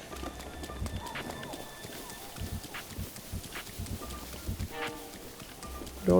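Horse hooves galloping in Zelda: Breath of the Wild, a rhythmic run of clip-clop thuds with game effects, and a voice talking in places.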